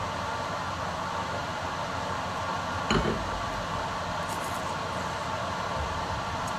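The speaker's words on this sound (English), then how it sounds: "That's the compressor running in here." A steady, even mechanical hum of a compressor fan runs throughout in a wine cellar, with one brief knock midway and no voices.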